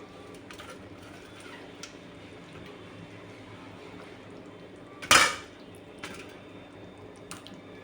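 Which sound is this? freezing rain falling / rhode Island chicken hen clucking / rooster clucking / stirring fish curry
stirring fish curry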